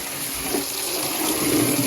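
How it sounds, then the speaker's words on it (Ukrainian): Water pumped up from a well pours steadily into a barrel, a continuous rushing splash with no voices. "Вже чую, що тече вода"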